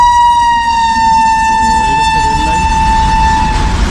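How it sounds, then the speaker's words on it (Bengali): A long freight train passes a railway crossing near Mayapur, its loud horn holding a steady sustained blast over the rumble of the wagons, close and continuous. "বড় একটা মালগাড়ি দিয়েছে।"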